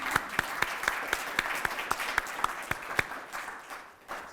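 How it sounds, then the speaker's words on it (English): A small audience at a Harold Washington history event applauds a presenter with sparse, distinct claps in a fairly even rhythm that thin out toward the end, close and moderately loud. "Another round of applause"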